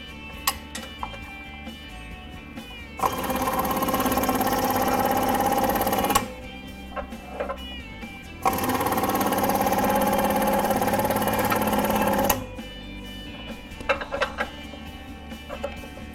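An air compressor or air-powered tool runs during a Dodge Dakota truck lift, with two steady, loud mechanical runs of several seconds each, separated by quieter garage noise and clicks.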